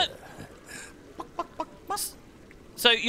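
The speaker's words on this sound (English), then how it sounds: "notice here this guy making the chicken noises" Clucking chicken noises voiced by a game character in Guild Wars 2, a handful of short separate squawks and bursts spread over a few seconds, fairly faint against quiet background.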